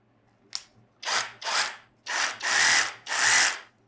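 A ProCraft PSS22 cordless reciprocating saw, battery-powered, runs in six separate bursts: a short blip, then longer loud buzzing runs of about half a second to a second each with brief silent gaps, close and with no talking.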